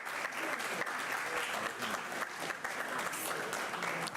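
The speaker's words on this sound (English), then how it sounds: "a big round of applause for Sukomi as it comes up" Steady applause from an audience at the Wenaija Youth Fest, a dense continuous clatter of many hands at moderate distance with crowd noise mixed in.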